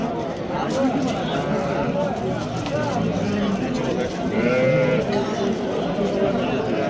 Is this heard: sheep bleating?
yes